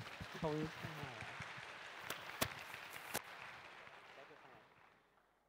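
Clapping from an audience at a Thai university stage event greets music education students, a dense quiet patter with a few sharp louder claps and brief voices early on, fading out toward the end.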